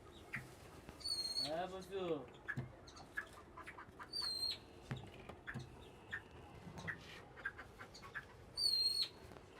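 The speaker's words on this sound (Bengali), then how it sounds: "এই ময়ূর ডাকতেছে" A peacock calls three times in loud, ringing, nasal cries at the start, middle and end, over a busy outdoor background of other birds and rustling.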